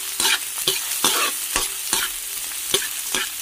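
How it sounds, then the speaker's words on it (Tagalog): Garlic and onion, white onion among them, frying in a pan for a chicken and tofu dish, with steady sizzling broken by repeated loud stirring scrapes about every half second. "Ilagay na natin ang ating bawang at saka sibuyas. Magluluto tayo ng chicken opo with tokwa. Yan, gisahin lang natin yan guys."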